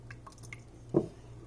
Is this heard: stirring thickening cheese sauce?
yes